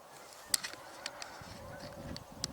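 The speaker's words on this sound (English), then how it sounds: "And then all the Canada geese." Canada geese honking outdoors, scattered short honks at a moderate distance, several calls spread across a couple of seconds over a steady background hum, with no talk.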